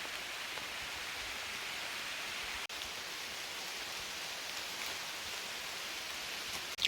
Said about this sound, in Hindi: बहुत मोटी बारिश हो रही है।